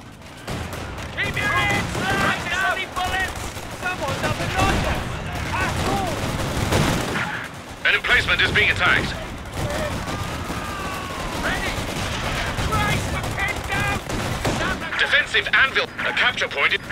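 Continuous gunfire and booming artillery in the World War II strategy game Company of Heroes 2, dense and loud, with radio-style voices talking over the battle.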